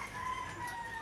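Soft clucking from a mother hen and chicks nearby, a steady low murmur of fowl with no one speaking.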